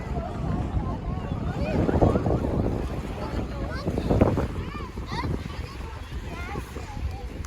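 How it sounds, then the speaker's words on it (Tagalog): Strong wind gusts across the microphone at Elk Lake National Park, a continuous rumbling buffet that swells and eases while people talk and birds call faintly in the background. "Grabe yung hangin."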